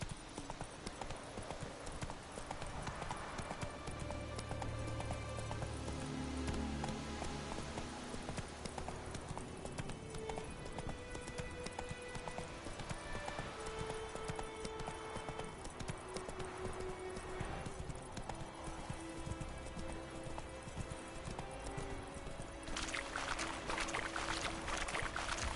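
In The Witcher 3 video game, a horse's hooves clip-clop in a fast, steady gallop that runs throughout, loud and close, layered over music and ambient game sounds.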